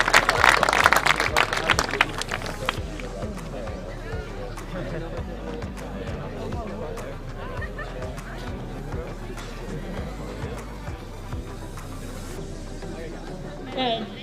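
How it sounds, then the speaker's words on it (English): Crowd applause at a school hockey tournament, loud and dense at first with a burst of clapping, then thinning into ongoing crowd chatter and scattered claps over a steady low hum. "Let's give another round of applause for Oranje Meisjes School"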